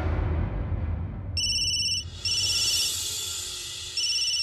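A phone rings indoors with a steady electronic ringtone, its bright repeating tone starting partway through over a low background hum and continuing close and clear to the end.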